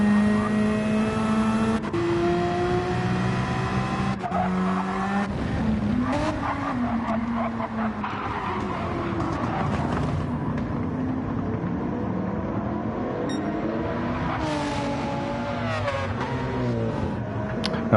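Race cars lapping a track in Gran Turismo 7, with steady loud engine drones rising and falling in pitch, tire squeals and cars passing throughout, all blended into a continuous racing roar.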